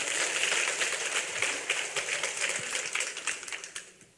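Church congregation applauding together during a sermon, dense sustained clapping that fades out toward the end, with no talk over it.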